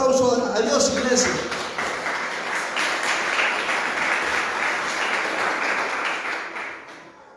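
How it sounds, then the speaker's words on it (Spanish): Church congregation applauding during a Sunday service, a dense, steady wash of clapping that starts under a voice, holds loud and then fades away. "Denle un fuerte aplauso a Dios"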